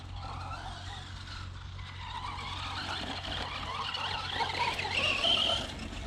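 A Funtek STX RC car on real tyres brakes hard, giving a steady rushing skid with a harsher squeal rising toward the end, fairly close and with no talking.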